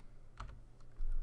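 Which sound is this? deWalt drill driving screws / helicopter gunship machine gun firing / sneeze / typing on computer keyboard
typing on computer keyboard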